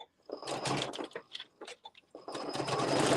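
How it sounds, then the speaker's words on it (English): A sewing machine with a walking foot sews a short back stitch on Luxe Cuddle fabric in brief bursts separated by pauses, then settles into a longer run, close by. "So I'm going to do a little back stitch."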